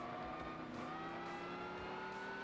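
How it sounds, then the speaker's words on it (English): A Chevy race car in Gran Turismo 6 gives off a steady, slowly rising transmission whine that sits above a low engine drone, continuous and fairly quiet. "The transmission's louder than the engine."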